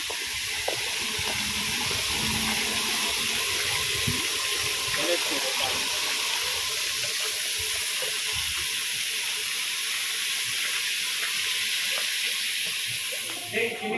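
A water fountain at Ramoji Film City, with water pouring from a butterfly-shaped feature, gives a steady rushing, hissing flow throughout, loud and continuous, with faint crowd sounds in the background.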